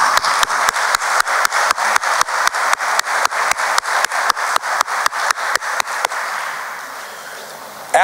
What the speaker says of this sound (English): I want to applaud everyone in our city